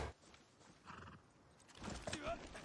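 A horse in the video game Far Cry 6 gives a brief whinny among light game sounds, with a voice talking faintly nearby.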